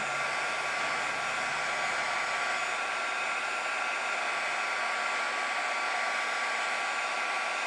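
A heat gun blows a constant loud, hissing rush of hot air at close range, melting embossing powder on a skeleton leaf, steady and unbroken for the whole stretch with no voices.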